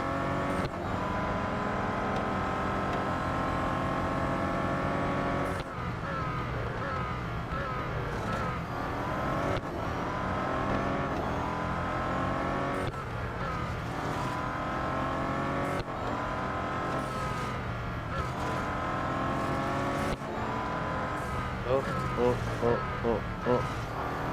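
A race car in the Real Racing 3 video game drives a lap, its engine revving hard and sweeping up and down through repeated gear shifts for the whole stretch, loud and continuous.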